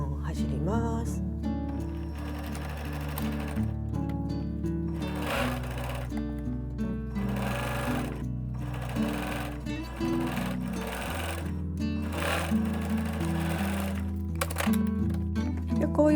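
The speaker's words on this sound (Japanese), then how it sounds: "こういう風にミシンで2本走ります" A sewing machine running steadily as it stitches two parallel rows along a sweater seam, a continuous fast mechanical whirr with rhythmic needle clatter, paused briefly between runs.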